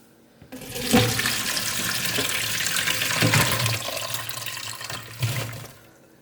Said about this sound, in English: Now, once you're ready for the apples, you are going to drain them like this.